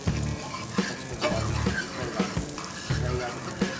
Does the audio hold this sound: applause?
no